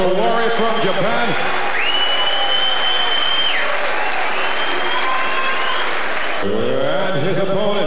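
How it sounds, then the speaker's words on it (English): A fight-night crowd applauds as a fighter from Japan enters the ring, sustained loud clapping with voices and bright tonal sounds riding over it and a brief shift near the end. "Please, a round of applause for Wari from Japan"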